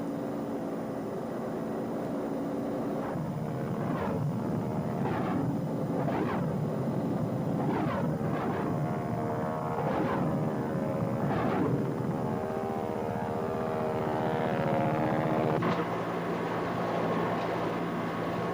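Loud, continuous rumble and whine of an AH-1 Huey Cobra attack helicopter, with a steady drone that swells and shifts, sounding close.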